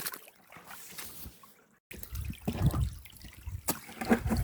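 Water running through a CGT prospecting culvert sluice on a Wisconsin gold dig, with tubing under the first mat to create wave action. It trickles and sloshes steadily, dips to a brief near-silence, then returns fuller and splashier.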